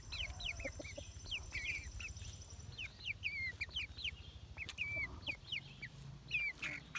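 A backyard rooster and chickens cluck and chirp in quick, repeated bursts, fairly faint and spread across the clip over a low rumbling background, with no talking.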